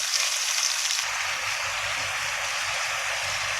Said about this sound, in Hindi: पहले चिकन को ना फ्राई होना, मीडियम हीट पे ना फ्राई होना है।